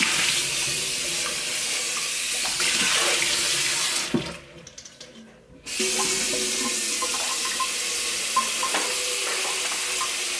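Tap water runs steadily into a container to refill water for the animals, close and continuous, with a short quieter lull midway before the flow resumes at full strength.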